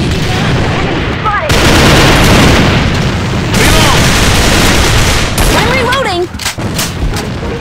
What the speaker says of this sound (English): Grenade straight ahead.